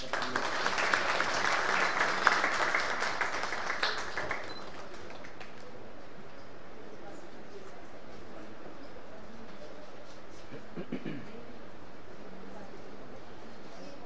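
An audience at a Hindi fortnight closing ceremony applauds award winners, a full burst of clapping for the first few seconds. It then dies away into a quiet hall with only a few faint taps and stray sounds.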